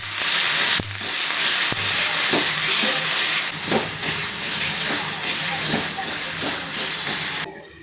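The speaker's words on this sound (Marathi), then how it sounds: "त्याच्यामध्ये मी वाटलेलं वाटण टाकून घेत आहे।" Ground masala paste with tomato and curry leaves hisses and sizzles loudly in a hot pan, a steady broad frying noise with faint stirring clicks, ending abruptly.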